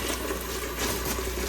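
Steady stream of tap water running into a kitchen sink, a continuous close rushing splash with no pauses and no talk.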